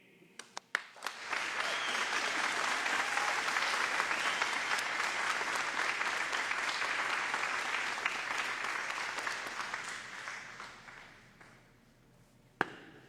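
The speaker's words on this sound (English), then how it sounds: "please join me in a round of applause for the graduates of the Canadian Armed Forces Basic Military Qualification" A crowd at a Canadian Armed Forces Basic Military Qualification graduation gives the graduates sustained applause for about ten seconds, which swells quickly, holds steady and tapers off, with a sharp tap near the end.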